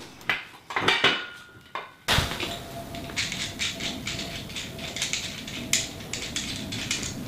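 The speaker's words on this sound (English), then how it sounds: "Tilt the base on its side to easily tighten the nuts on the carriage bolts." Metallic clinks and rattles of a wrench turning nuts onto carriage bolts of a kayak and SUP storage rack base, close and fairly quiet, in irregular short bursts.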